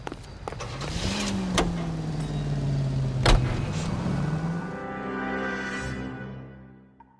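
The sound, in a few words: car driving in video game L.A. Noire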